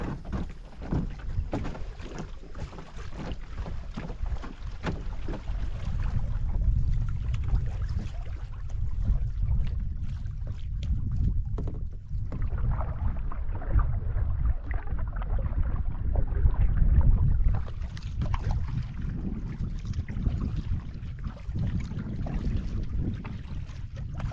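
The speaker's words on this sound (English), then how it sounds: "We're just paddling the narrow zigzag that connects the two parts of Crotch Lake" A canoe paddled through the narrow zigzag between two parts of Crotch Lake on a windy day, heavy wind rumble buffeting the microphone with steady watery swishes beneath, continuous and close.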